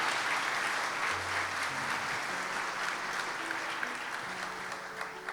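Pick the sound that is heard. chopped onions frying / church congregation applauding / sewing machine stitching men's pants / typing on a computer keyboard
church congregation applauding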